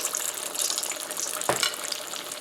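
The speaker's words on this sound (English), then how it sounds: "my oil is hot enough now, so I'm going to put my salmon down into the pan" A salmon patty sizzles and fries in hot oil in a pan, a steady crackling hiss that briefly flares as it settles, with no talking.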